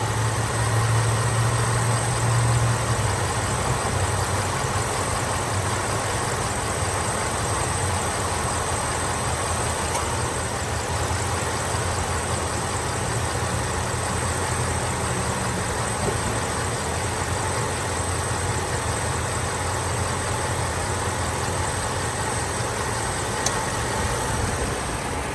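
Engine of a 1993 Cadillac Sedan DeVille with 50,000 miles, idling smoothly and steadily under the open hood for the whole stretch, a close, even hum with no talking.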